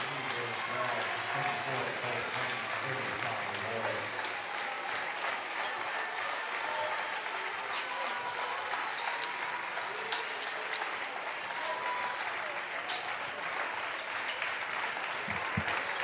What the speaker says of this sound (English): they will get a nice applause from the fans.